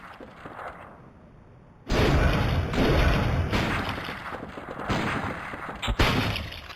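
Shotgun blasts in Bloodborne PSX, a few heavy booming shots after a quiet start, each with a crunchy low-fidelity thump and a short decay.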